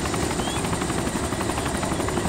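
Helicopter flying in the video game DayZ OverPoch, a steady loud rotor thudding and engine whine, continuous and close, with no voices.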